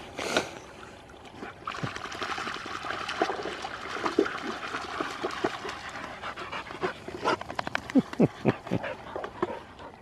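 Dogs pant close by in a quick, steady rhythm over running, trickling water outdoors, with occasional knocks and splashes.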